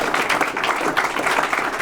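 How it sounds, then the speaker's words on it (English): Applause from an audience at an anti-corruption press conference honoring three speakers, a brief, even burst of clapping at moderate volume. "how about another round of applause for all three of our speakers?"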